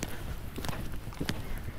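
A horse moving through a riding arena, with rhythmic hoofbeats thudding steadily close by at a gait-like pace and no voices over them.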